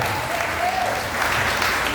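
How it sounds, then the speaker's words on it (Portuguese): A church congregation applauds continuously during a sermon, a thick, even wash of clapping that stays loud and steady for the full two seconds. "Você pode aplaudir Jesus aí no seu lugar?"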